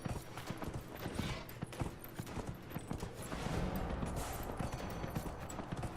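Horse hooves clip-clop steadily in Dragon Age: Inquisition, a close, continuous run of hoofbeats over a busy game soundscape with no talk.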